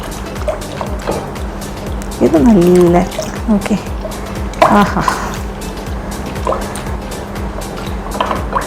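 A cup of water is poured into curd to thin it into spiced buttermilk. A short liquid pour and splash sits among steady talking from a nearby voice.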